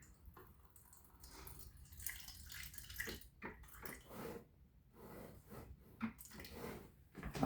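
Filtered water is poured out in uneven splashes and trickles to make cashew cream, with drips and a wet squish near the end. The sound is fairly quiet and close, and no one speaks.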